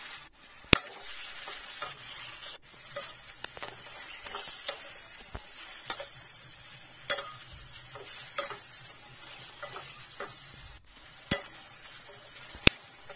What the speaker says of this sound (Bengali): আর গ্যাসটাকে লো ফ্লেমে রেখে অল্প আঁচে আমি মাংসগুলো ভালোভাবে কষিয়ে নিলাম।